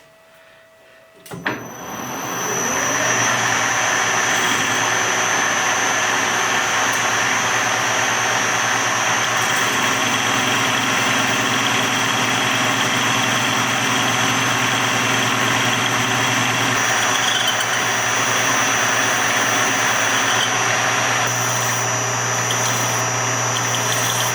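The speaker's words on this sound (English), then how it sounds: "now let's machine off the rough end, about maybe 3/16" Lathe machining the rough end off a wheel guard for a Brown & Sharpe Micromaster 612 surface grinder, cutting about 3/16 inch: a steady, loud, continuous machine drone with a high whine, running throughout without talk.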